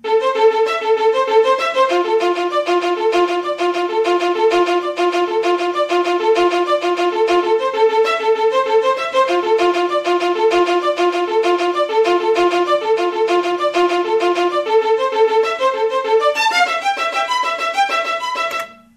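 Keyboard arpeggio entered note by note with step input in Cubase, a steady ostinato repeating the same notes at a quick even pace with varied note lengths and natural dynamics, loud and continuous for about eighteen seconds before stopping abruptly.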